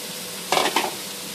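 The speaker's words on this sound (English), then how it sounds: "Now this we're going to stir, cook and stir on medium." Cauliflower, ginger and cashews hitting a hot pan on medium heat, giving a short pair of sizzling, scraping stirs over a quiet background hiss.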